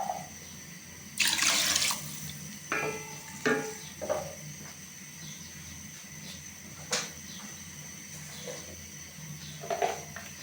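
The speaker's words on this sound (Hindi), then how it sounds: "अब हम इसमें पानी डालेंगे 2 प्याली।" Water pours from a measuring cup into a pot of rice being prepared for cooking, several short splashing bursts with quiet gaps between them, faint and close, no talk.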